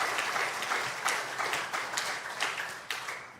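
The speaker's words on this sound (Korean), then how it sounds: "우리 모든 새 가족분들에게 다시 한번 힘찬 박수로" Congregation applause at a Sunday afternoon church worship service, a steady dense clatter of many hands clapping with small swells, filling the whole stretch without talk.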